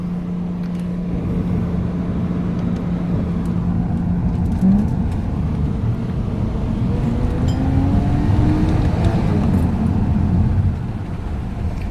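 A Subaru Liberty 3.0R with a 3.0-litre EZ30 flat-six and six-speed STI gearbox accelerates hard on the road, engine droning loud and steady inside the cabin as revs climb, drop at each gear change and build again.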